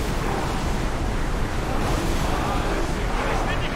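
Ocean waves in the video game Assassin's Creed Odyssey: a steady, loud wash of surf and wind-like rushing that runs unbroken through the whole stretch, with faint voice-like traces in it.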